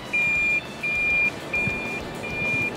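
Evenly spaced electronic beeps from a car's park-assist alert at an auto show sound over a steady indoor crowd murmur, four clear tones repeating at a regular pace.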